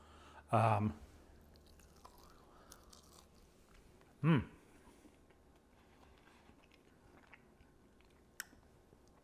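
Crunchy air-fried food with crisp skin from a Gourmia 7-quart digital air fryer being bitten and chewed close up, two distinct crunchy bites a few seconds apart amid quiet room sound.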